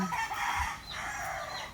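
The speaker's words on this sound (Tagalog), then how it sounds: "ang daming manok talaga dito guys" Chickens cluck and a rooster crows amid an outdoor farmyard din, fairly close and continuous, with no talking.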